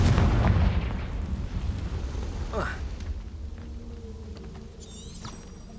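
In Hogwarts Legacy, a Confringo blasting curse lets go with a heavy, booming burst that rolls out into a long, fading rumble. A voice speaks over the blast, and a few faint magical chimes follow afterwards.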